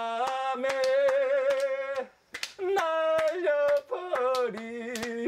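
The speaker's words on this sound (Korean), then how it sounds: "자 이제 그럼 박수 쳐주셔야죠." An audience claps along in a steady, evenly spaced beat while a singer performs a Korean trot song. The voice carries the melody over the rhythmic hand claps.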